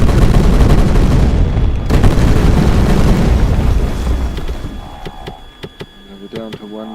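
Bombs detonate in the combat flight game Tiny Combat Arena as loud, heavy booming blasts that roll out and fade, followed by sharp clicking game effects and brief tonal beeps toward the end.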